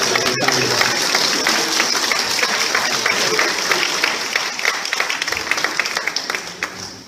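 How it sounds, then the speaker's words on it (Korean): An audience at a church service applauds in honour of the elderly, dense sustained clapping filling the whole stretch before thinning out toward the end. "박수도 한번 같이 보내드릴까요?"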